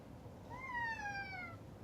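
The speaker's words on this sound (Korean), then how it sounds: "영상에 고양이 소리가 들어갈 수 있어요." A pet cat at home lets out a single drawn-out meow, clear but fairly faint against a quiet indoor background.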